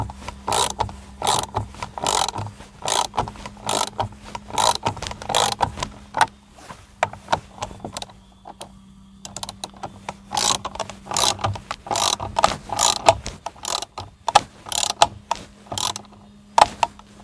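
Ratchet wrench tightening bolts on a door, steady rapid clicking in repeated bursts with short pauses between, close and clear over a faint low hum.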